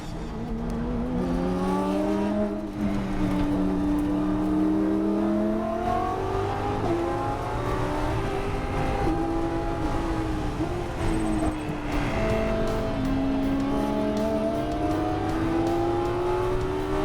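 Race car lapping the Brickyard, fast and smooth, its engine droning steadily close up with repeated rising revs and shifts, loud and continuous with no voices.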